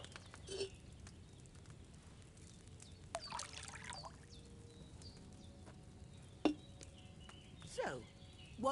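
Wine poured from a pitcher into a cauldron in the medieval role-playing game Kingdom Come: Deliverance II, a faint trickling pour amid quiet ambient game sounds with a few soft clinks.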